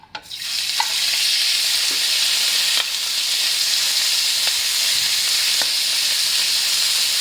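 Ground pork sizzles loudly in hot oil in a pan, a constant bright frying hiss broken by occasional clicks of stirring, with no talk.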